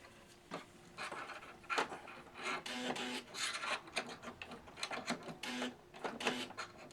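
A Husqvarna Viking Amber Air 600S serger runs in short bursts of stitching, rasping mechanical whirring that starts and stops repeatedly at close range, with no voices.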